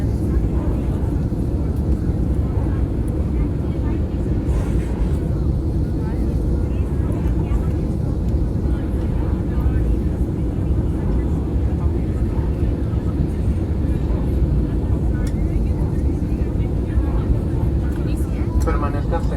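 Loud, steady cabin roar from a Viva Aerobus airliner flying Guadalajara to Los Angeles with one engine on fire, droning without a break throughout while voices murmur faintly beneath it.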